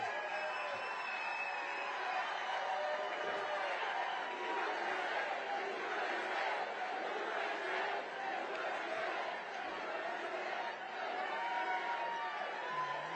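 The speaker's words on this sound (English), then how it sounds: "What a crowd. Thank you very much." A large crowd at a Republican Party convention cheers and shouts continuously, a dense roar of voices and whoops that stays steady and fairly distant throughout.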